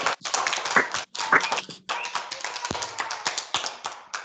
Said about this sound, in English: everyone can give her a round of applause